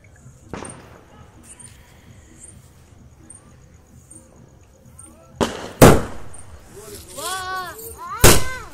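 Quiet background with a faint pop early on, then sharp, loud firecracker bangs go off nearby, with crackling and whistling bursts between the blasts.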